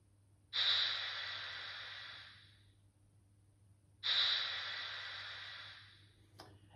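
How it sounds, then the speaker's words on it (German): Two loud hissing bursts of released steam from a Märklin 37897 Class 50 H0 digital model steam locomotive, each starting sharply and fading over a few seconds, with a short quiet gap between them. "Über F10 können wir Dampf ablassen."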